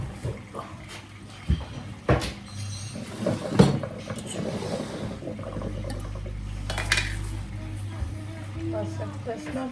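Dishes being handled in a home kitchen, scattered clinks and clatters of bowls and cutlery with a pouring or running-water stretch, heard under people talking and a low steady hum.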